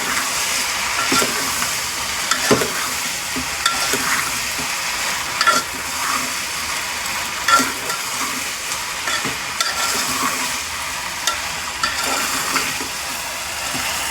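Food being stirred as it fries in a pan after salt is added, with a steady sizzle and irregular scraping strokes of the spoon, close and moderately loud, no talk.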